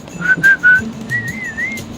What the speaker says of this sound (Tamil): விசில் அடி